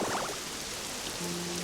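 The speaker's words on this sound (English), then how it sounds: "Or it's just because it's raining" Rain falls in the video game Pokemon Pokopia as a steady, even hiss of drops, with a few soft game tones drifting over it and no speech.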